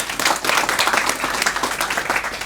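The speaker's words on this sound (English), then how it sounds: "I just want to start by giving them a round of applause" A conference audience gives a brisk round of applause for school staff, dense close clapping filling the whole stretch at an even level.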